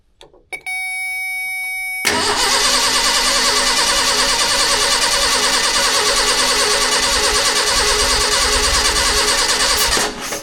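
Brief beeping chime, then an old car engine, unused for nearly 15 years, cranks and catches, running loud and rough with a steady pulsing idle before cutting off.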